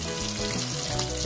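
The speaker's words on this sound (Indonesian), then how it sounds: "Goreng ayamnya dengan minyak yang cukup." Steady, close sizzling of chicken frying in hot oil, a continuous crackling hiss with no voices.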